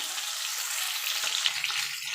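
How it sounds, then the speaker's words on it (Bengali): Barramundi fish bones frying in hot oil make a dense, continuous sizzle up close, with a few faint clinks partway through. "এইভাবে আমি বাকি কাটাগুলো সব ভেজে নেবো"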